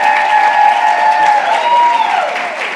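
Audience applauding and cheering for 15 young women at a presentation, steady loud clapping throughout, with a few whoops rising over it.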